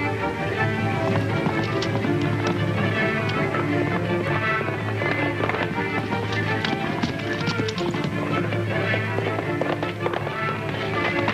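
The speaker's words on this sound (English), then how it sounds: "The girl's riding Mark's horse." Horses galloping in a 1936 Western serial, rapid continuous hoofbeats with a horse's whinny, loud and sustained under dramatic music.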